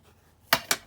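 Scissors trimming across the top edge of a paper journal page, three quick crisp snips in a row, close and fairly loud after a quiet pause.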